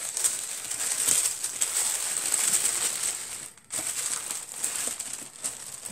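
Cutting through a heavily glued gift package makes a steady, close crinkling and rustling that runs almost unbroken, with one brief pause partway through.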